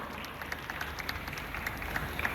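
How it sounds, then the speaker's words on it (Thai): An audience applauds a school dance team at a Thai folk-dance competition, with steady, moderately loud clapping in a crowd and no talking. "ขอเสียงปรบมือให้น้องๆโรงเรียนเทศบาล 6 วัดเชิงเขาด้วยค่ะ"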